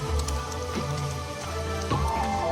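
Rain showers over an animal sanctuary park in Kuala Pilah, heard as a steady, fairly soft patter of drops with a low background hum running underneath throughout.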